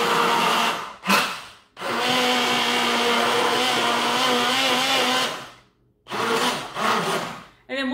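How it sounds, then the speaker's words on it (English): An immersion blender whirs in a cup of kombucha poppyseed salad dressing ingredients, with a brief burst, then a long steady loud buzzing run, a short stop and another burst near the end. "Plug in my immersion blender."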